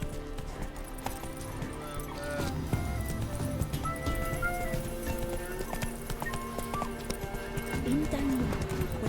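Hooves of the horse Roach clip-clop in a steady trotting rhythm across a video game scene, mid-distance, with a brief whinny near the end and a voice talking over it.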